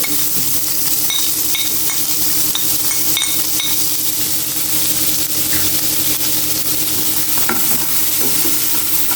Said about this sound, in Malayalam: ആ വെളുത്തുള്ളിയുടെയും ആ ഉള്ളിയുടെയൊക്കെ നല്ല പച്ചമണം പോണ വരെ നമുക്കൊന്ന് വാട്ടിയെടുക്കാം